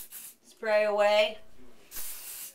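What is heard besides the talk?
hairspray being sprayed onto curled hair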